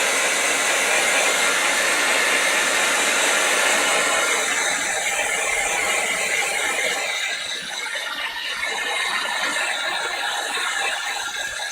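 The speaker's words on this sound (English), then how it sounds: "let me give that a bit of a blast with my heat gun." A heat gun blasts hot air over a stained glass piece, producing a loud, continuous rushing whoosh with a faint mechanical whine that holds steady and dips slightly partway through, close and without talk.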